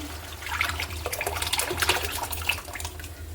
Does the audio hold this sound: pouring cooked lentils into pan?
yes